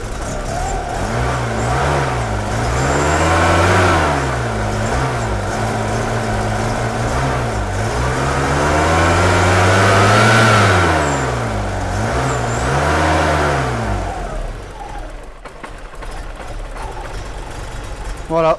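Volkswagen Corrado G60 engine running rough after a restart, revved up and down in uneven swells close to the microphone while someone talks over it.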